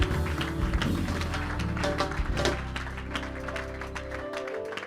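An audience claps and cheers for a pastor named Ricardo, a full burst of applause that slowly tapers, with some faint low sounds underneath.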